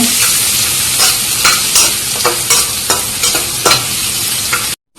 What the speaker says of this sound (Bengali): পেঁয়াজটা একটু লালচে করে ভেজে নেব